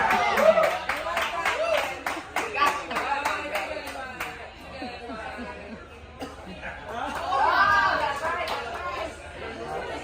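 A small crowd on a Key West walking tour claps and cheers in rapid bursts, with chatter and light laughter mixed in and voices talking over the applause.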